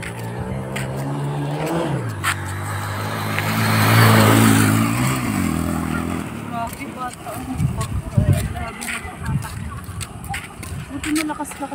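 A motorcycle passes along a road in a Capiz province morning, its engine swelling to a loud peak as it goes by and then fading, while people chat and other traffic hums in the background.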